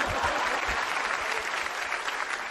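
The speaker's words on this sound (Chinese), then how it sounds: "那掌声啊都不能停" A theatre audience at a stand-up comedy show in Shenyang applauds steadily, a dense, even wash of clapping that holds at a constant level throughout.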